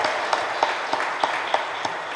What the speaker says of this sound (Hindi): तालियां बजा